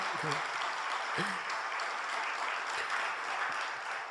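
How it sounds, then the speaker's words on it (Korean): A church congregation at a Sunday worship service gives warm applause of welcome, a steady, fairly faint wash of many hands clapping in a large room, with a few voices faintly heard underneath. "자리에서 일어나실 때 따뜻한 박수로 환영해 주시기 바랍니다"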